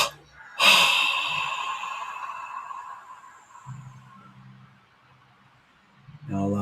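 A deep exhale during a guided relaxation breathing exercise comes as one long, breathy release of air that trails off over several seconds. A brief low voice follows, and another sound starts at the end.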